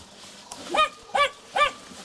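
A tethered dog whines and begs rather than barks on a veranda being prepared for repair, giving three short, fairly close whimpering cries in an even rhythm.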